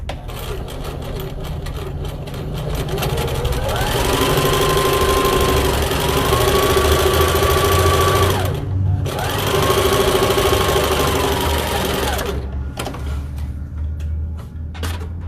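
A sewing machine stitches down the aligned side of a handmade fabric lunch bag, its motor running in steady bursts with brief pauses, loud and close over a low background hum.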